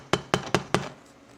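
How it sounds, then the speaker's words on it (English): A bass drum pedal beater strikes an electronic drum kit trigger four times in an even rhythm, each hit a sharp, close, dull thud with a short decay, followed by quiet. "the hammer hits the E-kit"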